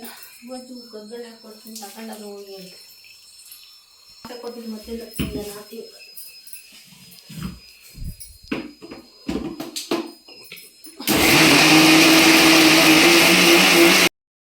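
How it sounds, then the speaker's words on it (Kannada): A mixer grinder blending raw mango chutney in a village home kitchen starts up abruptly after several seconds of close conversation and clatter, then roars loudly and steadily for about three seconds before cutting off. "ಎಲ್ಲ ಮಿಕ್ಸಿಗೆ ಹಾಕೊಳ್ತಾ ಇದ್ದಾರೆ"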